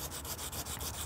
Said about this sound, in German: Jetzt können wir die gröbsten Unebenheiten mit einem groben Schleifpapier, ich habe jetzt hier glaube ich einen 80er oder einen 120er